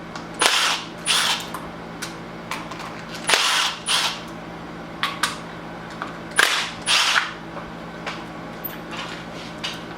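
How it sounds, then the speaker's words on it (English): A power tool spinning out 10 mm bolts from the upper timing chain tensioner on a Nissan 350Z engine, coming as several loud, sharp bursts of rapid impact rattling separated by pauses. "I'm going to be removing the upper timing chain tensioner right here. It's going to be 3 bolts and it's going to take a 10 millimeter."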